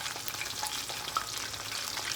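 Chicken pieces frying in oil for sweet and sour chicken lo mein give a steady, close crackling sizzle that holds even throughout, with no talking.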